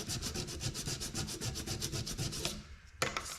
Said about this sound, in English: just some 120 sandpaper and I sand that off.